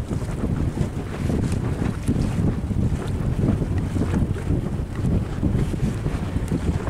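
A container cargo ship runs at a good speed across open water, its engine a loud, steady low rumble blended with rushing water and gusting wind buffeting the microphone throughout.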